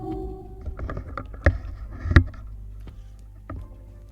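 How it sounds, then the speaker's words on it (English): An AI-generated horror door closing effect: a low creaking rumble with two sharp slams near the middle and a fainter knock toward the end, heard alone. "you can click generate to generate the sound effect, horror door closing effect"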